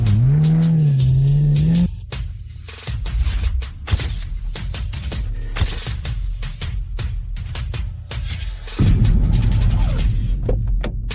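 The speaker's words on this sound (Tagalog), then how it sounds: "Iyon ay ang pribadong sasakyan ng pamilya Snow." A private family car arrives with a loud engine revving and a throbbing hum, heard close and alone with no talking.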